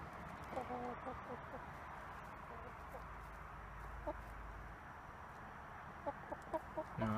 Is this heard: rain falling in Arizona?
no